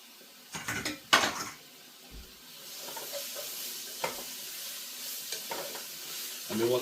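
Green part of a leek tipped into a pan with softening onion, clattering against the pan and stirred, then a quiet steady sizzle with occasional utensil knocks.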